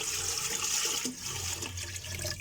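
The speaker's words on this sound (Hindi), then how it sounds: "अब हम इसमें 4 से 5 कप पानी डाल देते हैं।" Water being poured into a pot of red lentil dal in a home kitchen, a soft continuous splashing and gurgling stream, fairly faint and close, with no voices.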